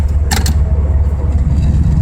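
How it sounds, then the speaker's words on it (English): A V8-swapped Mazda RX-7 engine roars loudly up close, with a short clunk of the shifter as it grabs second gear and keeps pulling. "So we just grabbed second gear there."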